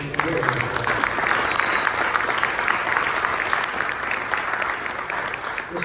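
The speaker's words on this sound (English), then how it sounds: "round of applause for Crystal" Dinner guests at a Crystal Eagle event give a round of applause for Crystal, a thick, continuous wash of clapping from a roomful of people, loud and steady with faint voices mixed in.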